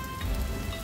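A brief burst of steady rain patters on a surface close by at an abandoned house, a soft continuous hiss with no voices.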